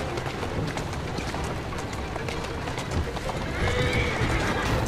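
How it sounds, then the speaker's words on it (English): Horse hooves clip-clopping at a steady trot with a whinny in the Assassin's Creed Syndicate video game, continuous and fairly loud with faint background layers. "He's a good horse. You are. Come on, horse, you can do it."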